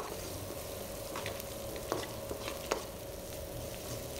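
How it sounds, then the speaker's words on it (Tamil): Prawn garlic masala fries in a pan while being stirred. Steady sizzling sits underneath quiet scraping, with a few brief clicks from the utensil against the pan and no voices. "இந்த அளவு இப்போ பொன்னிறமாக வதங்கிடுச்சு"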